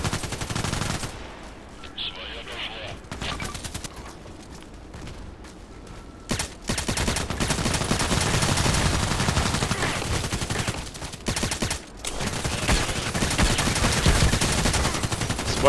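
Gunfire fired through a wall in the shooter game Contract Wars, with a customized KelTec RFB carbine in play, heard as dense, loud bursts of rapid automatic shots, broken by short pauses.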